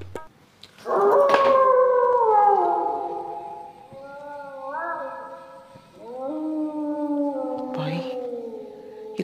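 Dogs howl in long, loud, close wails that rise and fall, one drawn-out howl after another with brief breaks between them, in a Hindi comedy sketch.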